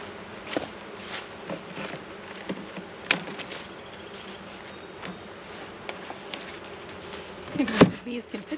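Honey bees buzzing steadily around an open hive during an inspection, a continuous close drone with individual bees whizzing past, under light handling knocks and clicks of hive equipment.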